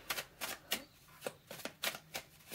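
Tarot cards being shuffled and drawn one after another, a run of soft crisp riffling flicks in a loose rhythm, close and quiet, with no talk.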